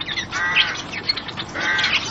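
A chocolate and white finch cock sings on a perch, a fast warbling chirpy song with bright twittering phrases that recur, close and fairly loud over a hissy background.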